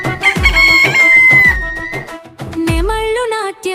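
A rooster crows in a children's animal song, long pitched calls repeating over a bouncy rhythmic backing, loud and up close, with no singing voice clearly standing out.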